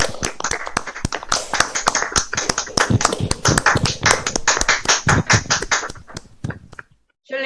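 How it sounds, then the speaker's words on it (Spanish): A lecture audience breaks into a long burst of dense hand-clapping that holds steady for several seconds, then thins out to a few last claps and stops, with no talking over it. "Un aplauso, por favor"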